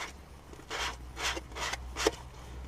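Four short rasping strokes of a sanding block along the leading edge of a wooden boomerang, close and evenly spaced, each a gritty scrape against the wood.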